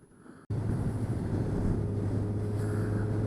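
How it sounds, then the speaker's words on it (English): A Honda CB1000R motorcycle engine roar starts abruptly and holds steady while riding, a loud low exhaust drone mixed with wind rush. "with the visor down and running, the sound of the exhaust loses a bit"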